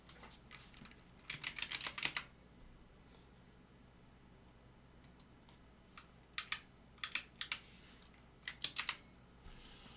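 Typing on a computer keyboard while editing slide text in PowerPoint, with a fast burst of clustered key clicks early on, scattered single taps, then several more quick bursts; close and fairly quiet, with no talking.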